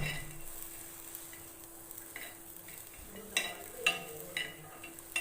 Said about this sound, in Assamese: এতিয়া মই ইয়াতে আদাখিনি, নহৰু কেইফুট আৰু জলকীয়া দুটা অলপ সময়ৰ কাৰণে ভাজি ল'ম।